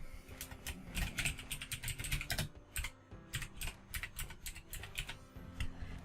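Rapid, uneven keystrokes clatter on a computer keyboard as a company name is typed, close and fairly quiet, in bursts with short pauses and no talk.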